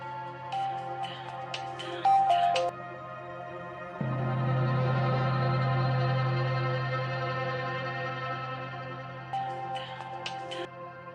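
A phone rings in a Pakistani drama scene, a steady electronic ringtone with echo, heard in two bursts at the start and end, with a louder sustained tone and low hum in between.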